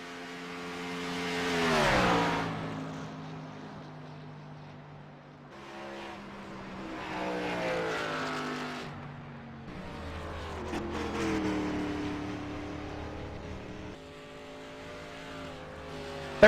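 A race car in qualifying accelerates hard, its engine climbing through several gear changes with rising and falling pitch, alternating between near passes and fainter stretches.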